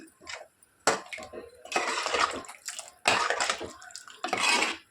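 A spoon scrapes and clatters against a pan while potato and brinjal curry is stirred, Muslim-style, in repeated bursts of metallic scraping and sticky, wet mixing separated by short pauses, close and fairly soft.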